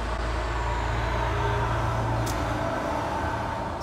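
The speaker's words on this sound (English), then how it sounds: "Did you just hear that truck go past?" A truck passes outside a home, its low engine rumble steady and fairly loud through the walls before fading away, with a brief high hiss near the end.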